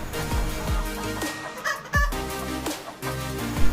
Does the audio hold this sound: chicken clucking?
yes